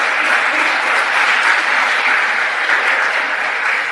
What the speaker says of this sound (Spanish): Dar esas palmas al Señor.